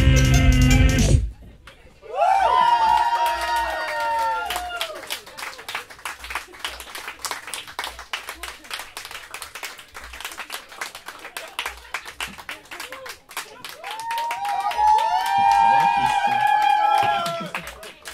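A live concert audience claps and cheers in a loud, dense burst, then the applause settles into steady rhythmic clapping while whistles and voices ride on top and a loud cheer swells again near the end.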